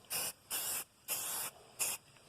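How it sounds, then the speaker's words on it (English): Four bursts of Rust-Oleum aerosol spray paint hissing onto a rust repair, each lasting about a quarter to a third of a second, separated by short pauses, close and clear. "I'm going to go ahead and spray some of this area down here as well"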